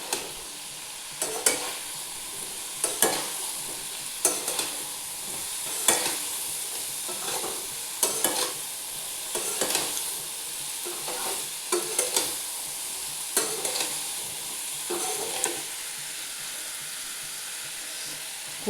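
Papaya curry with boiled chickpeas and potatoes sizzles steadily in a pan, with a spatula scraping and stirring at a regular rhythm of roughly one stroke every second or so, close and moderately loud with no talking.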